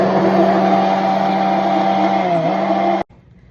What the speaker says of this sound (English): And then I'm going to use my immersion blender and blend it up.